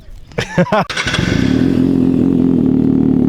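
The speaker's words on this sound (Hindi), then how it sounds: "पर आपको अभी फ़िलहाल इसकी मैं साउंड सुनाता हूँ एंड मुझे कमेंट करके बताइए कि कैसी लगेगी आपको रेस प्रो टाइटेनियम की आवाज़।" A motorcycle fitted with a Race Pro titanium exhaust cold starts with a few cranking coughs, then settles into a loud, close, steady idle rumble.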